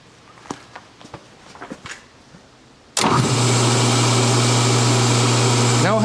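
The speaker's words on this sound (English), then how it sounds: "So that's right now running a 3-phase motor on single-phase power." A rotary phase converter spins up and runs a 3-phase motor on single-phase power, cutting in abruptly after quieter shop noises and settling into a loud, steady electric hum with a constant tonal drone.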